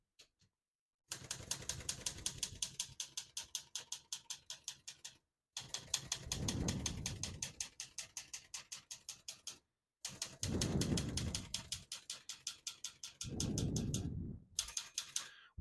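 A 1973 Olivetti Lettera 32 portable typewriter is typed on in quick, even bursts of sharp key strikes, with short pauses between runs and low mechanical thumps under the clatter, fairly quiet and close.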